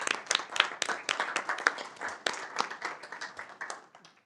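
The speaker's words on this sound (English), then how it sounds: "let's give a round of applause to Mr. Murphy" Applause breaks out at a city council meeting after a unanimous vote, a steady patter of many hands clapping for several seconds in a room, loud and continuous before gradually thinning out toward the end.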